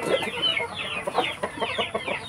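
Young native chicken pullets cluck and chirp close by in a farm pen, a busy overlapping chatter of short calls.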